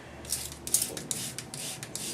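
A series of soft, quick hissing spritzes from a spray bottle of conditioner and water onto a makeup brush, several short bursts in uneven rhythm, close and quiet.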